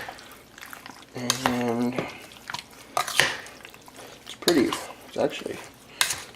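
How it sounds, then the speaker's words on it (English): A spoon scrapes and clinks in a bowl while stirring a sweet and spicy deer jerky marinade. Intermittent wet stirring and tapping sounds come through close by, mixed with a person talking. "I'm actually going to take the spoon and kind of stir it up"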